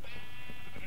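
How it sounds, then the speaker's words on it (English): Sheep bleating inside a sheep farm pen in Minecraft, a steady, close and loud blended bleat holding for under a second with no talk. "here's the sheep farm. I need to finish the entrance and then this is fully complete. So yeah, we have sheep in here."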